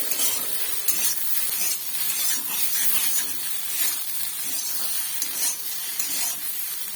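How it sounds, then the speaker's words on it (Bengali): Fried soybean chunks and potato being stirred with a little ghee in a pan, a steady sizzling hiss with soft scraping stir strokes throughout, no voices. "ঠিক একটুখানি সামান্য ঘি দিয়ে এটাকে নেড়ে চেড়ে নেব"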